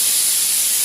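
A pressure cooker cooking mutton biryani vents steam in a loud, continuous, close hiss with no talk.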